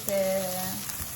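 Spices sizzle in a hot pan for vegan nachos, a soft steady hiss with faint scraping as they are stirred, close and quiet.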